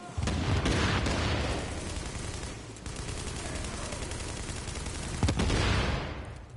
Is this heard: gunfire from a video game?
yes